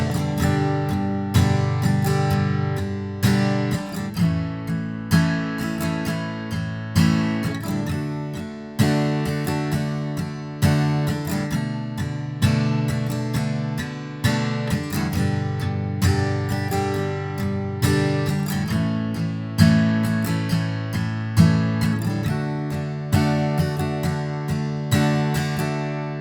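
Acoustic guitar strumming the chords without a capo, steady down-strums ringing close and loud in a continuous rhythmic pattern with no voice.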